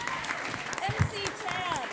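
An audience at a local singing contest applauds in a room, a short burst of clapping mixed with a voice speaking over it.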